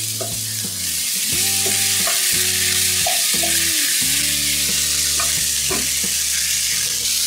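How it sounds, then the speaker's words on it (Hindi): Samosa potato filling gets stirred and mixed with coriander in a hot pan, a loud continuous sizzle broken by repeated spatula scrapes and knocks, close up and with no voices. "मिक्स करेंगे इसको अच्छी तरह और साथ ही धनिया डाल लेंगे"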